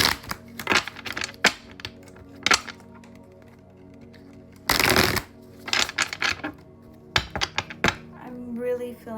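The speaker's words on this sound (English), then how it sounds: "shuffle it one more time." Tarot cards shuffled by hand, a run of sharp riffling snaps and soft flutters in uneven bursts, with one longer dense rustle midway, close and fairly quiet.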